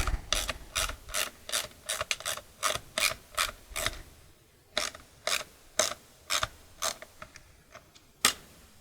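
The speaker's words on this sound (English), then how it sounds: "I'm taking my 5mm hex bit, crescent wrench. I'm tightening this back one up that I have in so I can get the other one in." A bolt being tightened with a 5mm hex bit and crescent wrench while fitting a fender eliminator on a 2021 Kawasaki Ninja 1000SX, a steady series of sharp ratcheting clicks with short pauses, close and alone.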